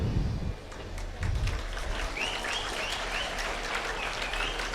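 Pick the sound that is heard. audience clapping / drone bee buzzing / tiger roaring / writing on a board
audience clapping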